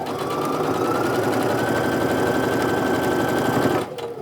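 Sewing machine stitching quilt block seams for a Supernova block, running at a steady fast rapid chatter for nearly four seconds before stopping abruptly near the end.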